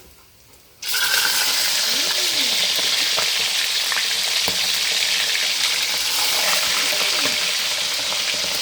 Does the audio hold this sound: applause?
no